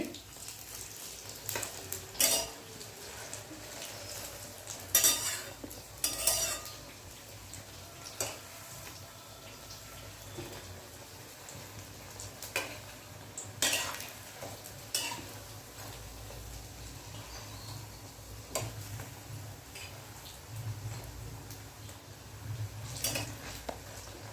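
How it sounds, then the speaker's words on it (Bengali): Pumpkin flowers from the garden sizzle steadily in hot mustard oil, a continuous soft frying hiss broken by occasional scraping and clinking of a spatula against the pan, no voices. "এগুলো খুব ভালোভাবে ভাজা হয়ে গেল, বেশি বাড়িয়ে ভাজা যাবে না, নাহলে পুড়ে যাবে"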